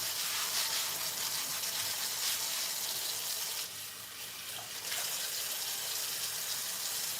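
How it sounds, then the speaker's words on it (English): Hot tap water runs in a steady, close hiss while chocolate is washed off, easing briefly midway before the full stream returns. "And this water is really hot, which is why it's coming off so easy."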